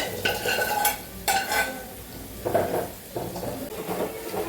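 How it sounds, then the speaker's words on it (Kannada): Pre-cooked legumes are stirred into a frying tomato masala. A spatula scrapes and clatters against the pan in a few uneven strokes over a constant close sizzle, and nobody speaks. "ಇವಾಗ ಇದಕ್ಕೆ ಮುಂಚೆನೇ ಬೇಯಿಸಿಟ್ಕೊಂಡಿದ್ನಲ್ಲ ಆ ಕಾಳನ್ನ ಸೇರಿಸ್ಕೊತಾ ಇದ್ದೀನಿ."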